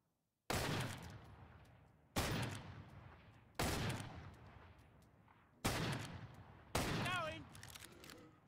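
Gunfire from a solo match of the video game Killing Floor 2 on the FrostWorld map comes as five loud, sharp shots or short bursts spaced about a second and a half apart, each ringing out and decaying, with a brief voice near the end.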